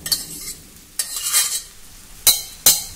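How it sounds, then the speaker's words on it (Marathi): Cooked rice is tipped into a pan over a low flame and stirred, giving soft sizzling and scraping strokes with a few sharp spoon knocks against the pan, close and alone. "आता यामध्ये भात घालूया। भात व्यवस्थित मोकळा करून घाला।"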